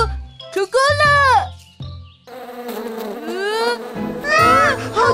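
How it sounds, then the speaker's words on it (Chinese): A cartoon swarm of bees buzzes in loud whining sweeps mixed with playful music and animated character voices. "好多蜜蜂！"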